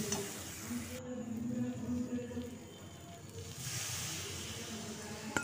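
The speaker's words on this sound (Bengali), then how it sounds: "এবার এর মধ্যে পোস্ত বাটা ধোয়ার যে জলটা আছে সেটা দিয়ে দেব, আর পরিমাণ মতো জল দেব।" Water pours into a frying poppy seed paste with eggs in a pan, setting off a steady hiss and sizzle that surges midway, with someone talking over it.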